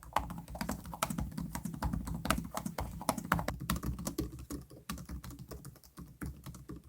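Typing on Galaxy Book and Zephyrus laptop keyboards, a quick, steady stream of close key clicks and taps that softens and thins toward the end.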